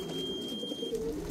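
Racing pigeons coo softly in a loft, a low steady murmur of overlapping calls with no talk.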